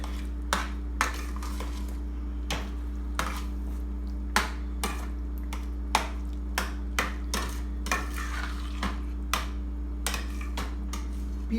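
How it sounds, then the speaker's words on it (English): Pav bhaji in a pan is stirred and mashed, producing a series of sharp utensil taps and scrapes that repeat irregularly about once a second over a constant low electrical hum. "I'll be giving it a stir and a mash one more time"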